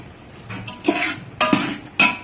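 A spoon stirs okra, chilli and cucumber in a cooking pot, giving three or four distinct metallic scrapes and clinks spaced about half a second apart over a quiet background.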